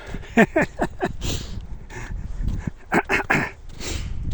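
A dog makes several short, close whimpering and yelping sounds in a quick irregular series during an outdoor walk, with a brief pause before another burst of cries.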